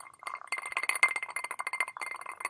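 Ice cubes clink and rattle into a glass of bourbon, a quick, bright cluster of close glassy clinks over about two seconds with a brief pause near the end.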